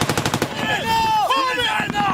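Gunfire in combat in Afghanistan rattles in a rapid burst at the start, then gives way to shouting voices and a tonal whine or cry under the noise.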